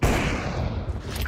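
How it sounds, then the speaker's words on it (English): A grenade is thrown in a video game amid dense battle noise, with a loud, steady wash of gunfire-like blasts and low rumble running through the whole moment. "Throwing a grenade."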